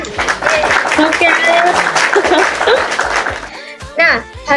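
Students applauding in a school class podcast, energetic clapping mixed with excited children's chatter, shouts and laughter, loud and close, dropping off briefly before voices rise again near the end.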